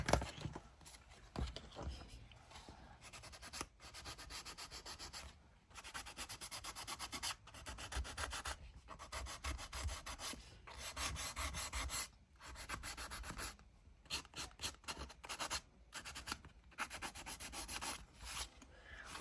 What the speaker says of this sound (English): Oh, I like that when you sand the sellotape.